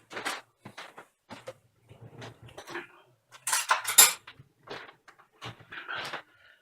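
A metal teaspoon clinks and taps against containers while measuring a small amount of brewer's yeast for ginger brew, several close, bright knocks and scrapes in short bursts with pauses between.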